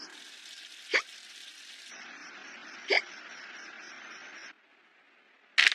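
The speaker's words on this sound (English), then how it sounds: "Poor thing's hiccups still haven't stopped." A young woman hiccups three times at roughly two-second intervals, each a sharp, short, close burst over a faint background hiss, with no talking in between.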